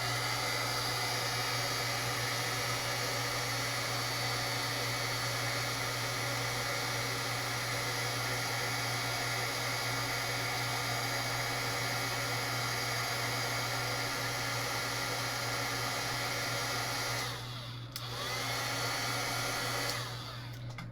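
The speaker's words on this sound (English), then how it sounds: "Okay, I'm going to grab my heat tool." A handheld heat tool blows hot air over embossing powder in a crafting session, a loud continuous whirring hiss held steadily for around twenty seconds with a brief dip near the end.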